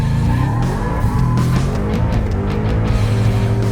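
A V8 Ford TRX pickup does a rolling burnout, its loud engine roaring steadily close by while tires squeal and hiss throughout.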